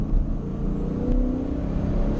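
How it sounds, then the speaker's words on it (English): A 2019 Chevrolet Camaro's turbocharged engine revs and rumbles with a whistling turbo whir, sustained and fairly loud up close. "Listen to that turbo."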